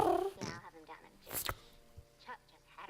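A person mimics a cat with a short, close meow-like vocal sound, briefly surrounded by other talk.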